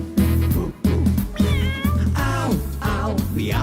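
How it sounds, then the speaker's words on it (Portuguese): A cat meows several times in rising and falling calls over steady musical backing, as part of the jingle of a pet-themed radio program. "Miau, miau,"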